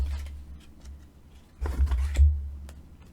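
A tarot card deck is cut and shuffled by hand, giving soft papery flicks and riffling snaps that grow busier and louder partway through before settling again.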